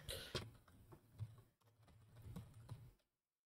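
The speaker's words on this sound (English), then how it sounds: "Typing noises." Rapid clicking of a computer keyboard being typed on, close and fairly faint, in uneven bursts with brief pauses before stopping abruptly.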